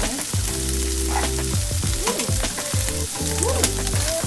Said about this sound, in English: I'm gonna give our elbows a stir